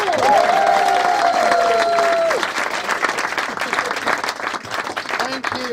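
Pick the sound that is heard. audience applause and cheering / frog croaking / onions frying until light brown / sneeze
audience applause and cheering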